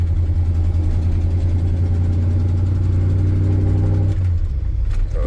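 A 1986 GMC CK 3500 two-wheel-drive dually pickup with a 454 V8 rumbles steadily while driving on a bumpy road, a deep, loud, continuous engine drone that shifts slightly near the end.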